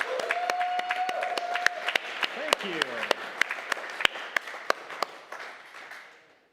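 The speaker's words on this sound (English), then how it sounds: "a round of applause for Ben" Audience applause for Ben at an evening gathering, with sharp individual claps spiking over a steady patter that thins and fades out by the end. Someone speaks briefly over the clapping.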